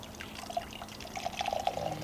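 Water squeezed from a rain-soaked sponge, a soft irregular trickling and dripping stream that runs close and fairly quiet, growing busier toward the end.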